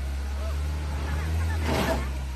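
An off-road SUV engine drones with a deep, steady rumble while driving off-road in the rain, swelling slightly near the end, with faint voices in the background.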